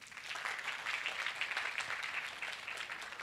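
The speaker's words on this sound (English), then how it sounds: "Clap for all the contributors." Audience at a mental health awareness workshop clapping for the contributors, soft, somewhat distant applause that swells and tapers over a few seconds.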